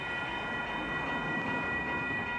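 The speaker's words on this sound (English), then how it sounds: "We are stuck waiting for a train here in the Dalles." A train passes at a railroad crossing in The Dalles, a steady, distant rumble and rolling roar with a faint high tone above it, continuous and even for the whole stretch, with no talking.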